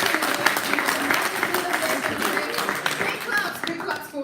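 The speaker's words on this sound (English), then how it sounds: "big claps for them, the entire team" Applause from an audience at an academic conference on interdisciplinary research in Africa fills the room, dense steady clapping sustained throughout at moderate loudness.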